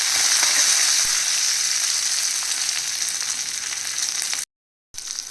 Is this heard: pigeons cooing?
no